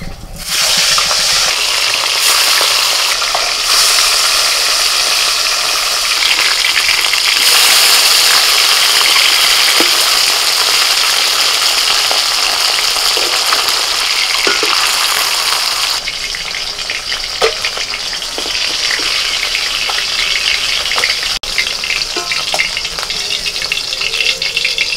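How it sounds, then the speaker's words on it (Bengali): Salted, turmeric-rubbed faloi fish fry in hot oil in a kadai, a loud, continuous sizzle and crackle lasting throughout, with occasional clinks and no talk. "এখন কড়াইতে তেল দিয়ে দিয়েছি, তেলটা গরম হয়ে গেছে, এবার মাছগুলো ভেজে নেব।"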